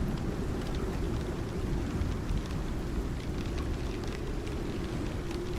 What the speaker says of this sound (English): Tier 5 storm. Doing a bit of damage to the house.